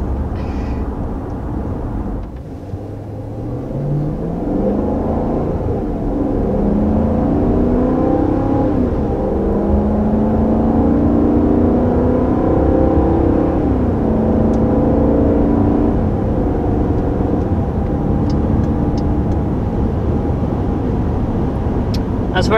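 Inside the cabin of a 2020 Dodge Durango R/T Blacktop on the move, a low engine hum climbs and settles through smooth shifts of its 8-speed automatic, steady and moderately loud beneath road noise.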